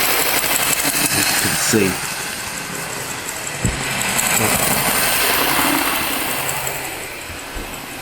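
A Bachmann BR N Class model steam locomotive runs along its track with a steady mechanical whirring hum and faint clicks while someone speaks briefly close by.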